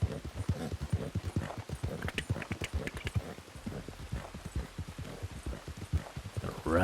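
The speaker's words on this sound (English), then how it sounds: "Ride this horse hard." Horse hooves clip-clop at a steady gallop rhythm in Red Dead Redemption 2, a dense run of close, loud beats that fills the whole stretch with faint game ambience behind.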